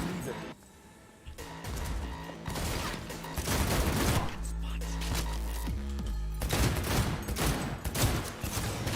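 Video game gunfire in rapid bursts, loud volleys and automatic fire with crashes and thuds, alternating with short quieter gaps.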